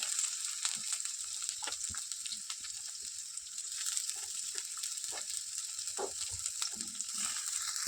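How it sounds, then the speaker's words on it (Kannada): Garlic, ginger and onion fry in hot oil in a pan, giving a continuous close sizzle. Occasional soft taps and scrapes of a stirring utensil sound through it. "ಬೆಳ್ಳುಳ್ಳಿ ಶುಂಠಿ ಸ್ವಲ್ಪ ಹಸಿ ವಾಸನೆ ಹೋಗೋವರೆಗೂ ಸ್ವಲ್ಪ ಫ್ರೈ ಮಾಡ್ತೀವಿ"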